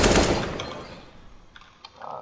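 A loud burst of gunfire in CS:GO, shots fired through a wall, booming at first and then decaying, followed by a few faint clicks and rattles.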